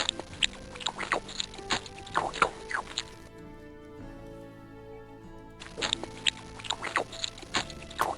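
Apple being eaten in the online role-playing game Meridian 59, a wet, slurping crunch sound effect repeated in two bursts of quick patter separated by a quieter pause, fairly close and clear.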